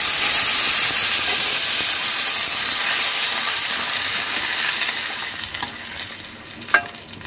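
Hot tempering of mustard seeds, curry leaves and dried red chillies hits pineapple gojju with a loud, close, continuous sizzle and hiss that gradually fades, ending with a small clink.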